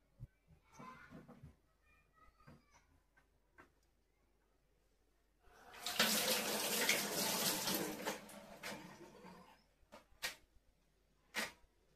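Water gushes from the outlet pipe of an Aqua Omega RO water purifier during installation, a steady hissing stream running for about three seconds after scattered clicks and handling knocks, followed by a few more short taps.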